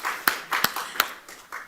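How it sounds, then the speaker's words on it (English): Scattered hand claps from a symposium audience, a few sharp claps spread irregularly over a short moment, sparse and moderately close. "She deserves a round of applause indeed."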